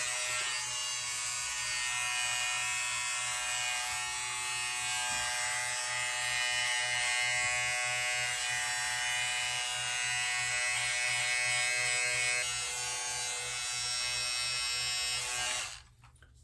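Electric beard trimmer running steadily for about sixteen seconds at home, a loud, close buzzing whine with slight changes as it moves over the beard, then cutting off at the end.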